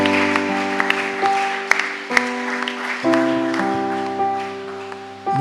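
A church congregation at a thanksgiving service applauds and cheers with loud, scattered claps over sustained keyboard chords that shift partway through.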